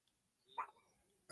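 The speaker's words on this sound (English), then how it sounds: "Is that what the dogs are barking?" Dogs outside give a couple of faint, distant barks, one near the middle and another at the very end, over quiet background.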